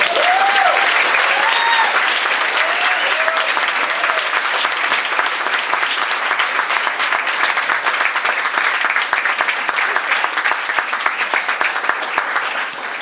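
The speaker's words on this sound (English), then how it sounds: "could we get one more round of applause for Mary, please?" A fundraiser audience gives a speaker a sustained, loud round of applause, dense and steady throughout with no voices on top.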